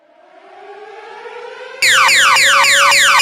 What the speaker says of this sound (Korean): 이것은 긴급 경보입니다.